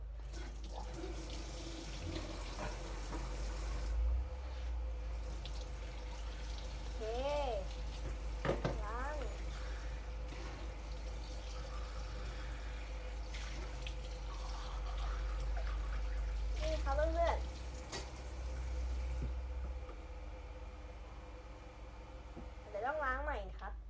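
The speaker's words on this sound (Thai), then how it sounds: "อันนี้แช่น้ำจนเน่าแล้วนะครับ เดี๋ยวเอาออกมาก่อนแล้วก็ล้าง" Running water from a tap splashes steadily while a water-soaked, rotting Nokia phone is rinsed under the stream, with a voice speaking quietly over it.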